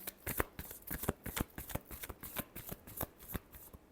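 Tarot cards are shuffled close by in quick rhythmic bursts, several crisp riffling slaps spaced a fraction of a second apart, with no talk over them.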